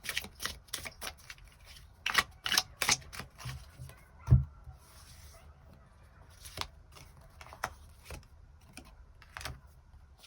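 Tarot cards being drawn and shuffled, quick papery riffles and flicks in short clusters up close, then scattered lighter taps and a soft thud, with no talking.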